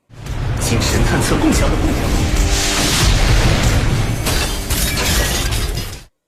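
A cannon bomb explosion roars loud and sustained for several seconds, with crackling debris and shattering bursts layered over a heavy low rumble before cutting off.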